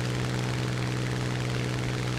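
A propeller observation plane's engine drones steadily during an aerial combat flight game, a continuous loud rumbling hum with no pauses and no talk.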